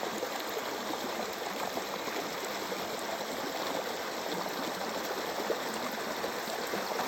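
A small stream on the Appalachian Trail between Spaulding Mountain and Shaw's Hostel flows with a steady, continuous babbling rush, close by and evenly loud throughout, with no voices over it.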